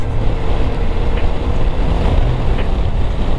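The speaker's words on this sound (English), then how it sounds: "It's getting a bit windy up here." Steady wind buffets the microphone during a motorcycle tour on a Swiss mountain pass, with a constant low rumble and hiss, continuous throughout with no voices.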